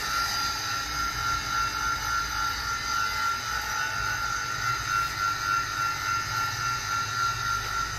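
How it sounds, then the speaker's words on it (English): A three-phase motor started by a LoRa smart remote starter runs with a steady whirring drone and broadband hiss, moderately loud and unbroken, with no speech over it. "Motor is on. Signal is coming. Motor LED is also on."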